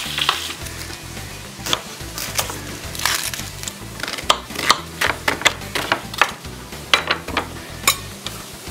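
Beef sears hard in a hot frying pan with a constant loud sizzle, broken by frequent sharp scrapes and clacks as a utensil turns the meat.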